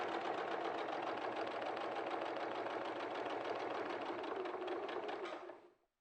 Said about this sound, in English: I've done a lock stitch to begin with because I don't want to see a back stitch